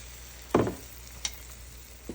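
Milk being stirred into hamburger-steak drippings in a pan to make gravy, with a few short scraping strokes of a utensil against the pan bottom, fairly close and fairly quiet, no talking.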